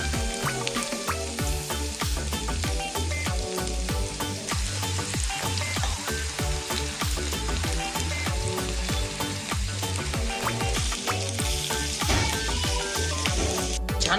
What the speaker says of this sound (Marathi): छानपैकी जो कांदा आहे तो आपला फ्राय झालेला आहे